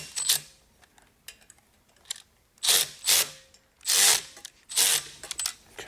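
Wheels on a Vyper detailing chair are tightened with a power tool, giving several short, loud whirring bursts separated by pauses, close to the listener with no speech.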